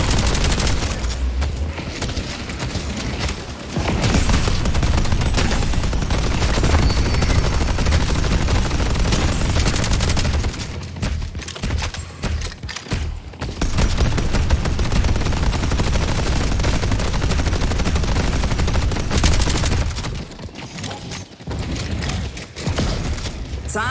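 A turret in the video game Deadlock fires rapid, continuous bursts with a few short pauses, set against loud, dense game combat noise.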